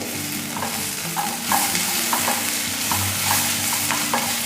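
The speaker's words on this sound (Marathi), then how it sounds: "या लसणाच्या पाकळ्या घालूया आणि आल्याचे तुकडे घालायचे आणि या कांद्यासोबत आता हे दोन्ही पण परतून घ्यायचे" Onion with garlic cloves and ginger pieces sautéing in a pan, a steady sizzle with repeated stirring scrapes of a utensil throughout, close and moderately loud, no talking.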